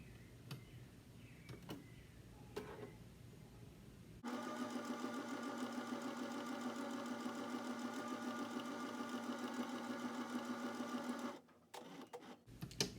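A sewing machine stitches cotton or muslin for a face mask, starting after a few quiet handling taps and running in a steady, close, rapid whir for about seven seconds before stopping amid soft clicks.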